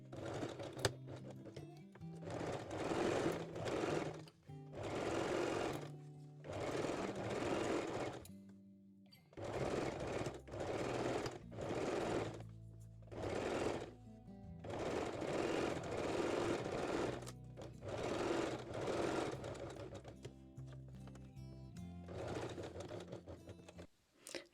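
A sewing machine runs a long straight stitch while making a one-shoulder lace bralette, buzzing in a series of sustained bursts with short pauses between runs, close and steady.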